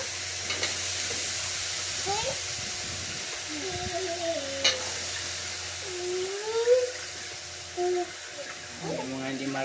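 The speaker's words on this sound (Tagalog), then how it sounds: "Tapos ihalo natin dito." Pinakbet vegetables are stirred in a sizzling pan, a steady hiss of frying with occasional scraping and clatter of the utensil, heard close with a voice talking over it.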